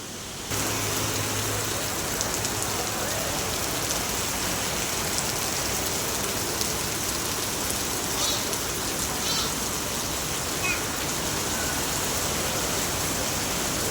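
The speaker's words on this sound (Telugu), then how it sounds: "ప్రియాంకనేమో వర్షం ఎప్పుడు తగ్గుతుంది ఇంటికి ఎప్పుడు పోదామా అని చూస్తుంది" An unseasonal summer rain falls steadily, making a loud, dense, continuous hiss that holds at an even level for the whole stretch with no breaks or pauses.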